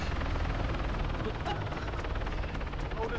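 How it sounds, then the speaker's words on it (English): A helicopter runs steadily nearby, its rotor beating in a fast, even rhythm over a loud continuous engine drone that stays constant throughout. "has he turned that chopper off?"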